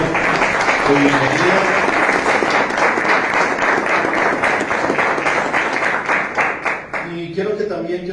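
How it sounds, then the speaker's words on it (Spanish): A church congregation applauds first-time visitors with dense, steady clapping that fades near the end, while a voice calls out briefly over it. "Denle un aplauso a ellos, por favor."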